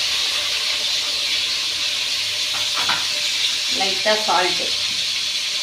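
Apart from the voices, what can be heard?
onion frying with mustard seeds and curry leaves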